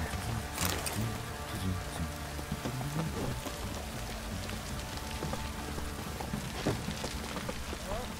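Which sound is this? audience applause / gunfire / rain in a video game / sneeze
rain in a video game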